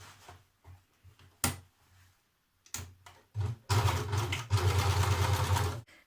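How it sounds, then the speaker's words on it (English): An overlocker neatening the top edge of a skirt pleat extension for a Simplicity 8652 skirt, starting with short stop-start mechanical bursts, then running in a sustained, louder whirring stretch before cutting off. "So I'm going to overlock mine."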